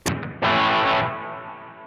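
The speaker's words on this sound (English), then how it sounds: "So I like a good hall reverb." Electric guitar played through a Donner Yellow Fall 2 pedal set to hall reverb, a quick pick attack and then a loud chord that swells and slowly decays into a long, washy tail.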